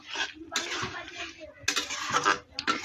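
A pot of curry seasoned with garam masala is stirred with a metal spoon, giving bursts of scraping, clinking and wet sloshing in close, uneven strokes with brief pauses between them.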